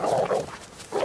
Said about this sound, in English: Boy, look at that dog.